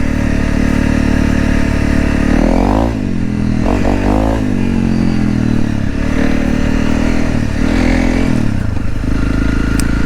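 A Honda CRF 300 Rally dirt bike rides a soft sandy trail without a windscreen, its loud engine droning steadily with a few rev swells under heavy wind buffeting.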